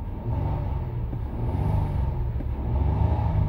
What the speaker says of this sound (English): Motor sounds really good.